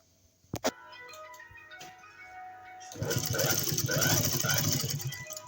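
Sewing machine stitching buckram onto a salwar hem, starting after a couple of sharp clicks and running steadily and close for the last few seconds, with a voice faintly behind it.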